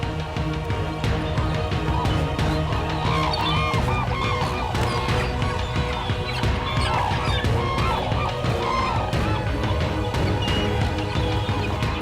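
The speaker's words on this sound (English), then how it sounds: "Japan's biggest birds fight over food, one of the most dramatic spectacles the bird world has to offer." Giant sea eagles and cranes squabble over food in Japan, a dense wall of overlapping honks, calls and wingbeat scuffles, loud and continuous throughout with no voices.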